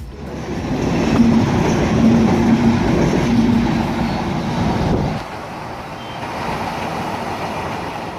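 The Ekota Express intercity train with LHB coaches rumbles past loudly and close, a dense continuous roar of wheels and carriages that eases slightly toward the end.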